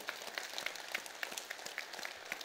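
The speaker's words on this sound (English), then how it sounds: "Hey, let's do a different kind of applause for that." Audience applause during a church service, a quiet, steady patter of many hands clapping at a distance with no voices over it.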